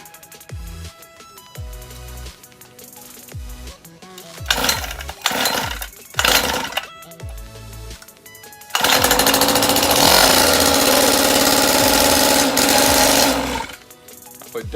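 A 49cc dirt bike engine sputters through several short cranking attempts, then catches and runs loud and buzzy at steady high revs for several seconds before cutting off abruptly.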